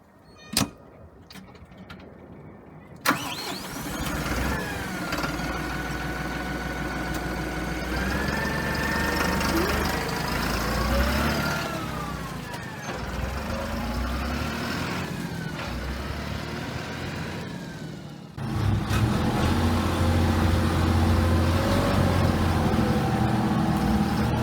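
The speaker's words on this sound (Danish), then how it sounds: "jeg kan godt lide at køre den her traktor" A tractor engine cranks with a few sharp clunks, then catches and runs in a steady, loud, rumbling idle for over twenty seconds, rising to a heavier, louder drone near the end.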